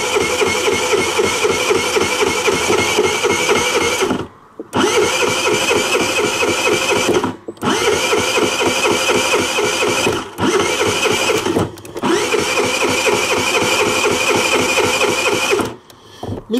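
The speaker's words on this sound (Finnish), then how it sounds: "No nyt startataan niin kauan, kun se lähtee tai hyytyy" An engine is cranked over and over by its starter motor as it struggles to catch, giving long stretches of rhythmic churning broken by several short pauses. The sound is loud and near, with no voices over it.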